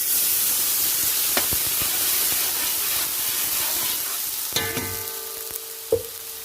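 Sofrito sizzles steadily in a hot pan for Puerto Rican peasant's rice, a continuous frying hiss with a few clicks and scrapes of a cooking spoon stirring near the end.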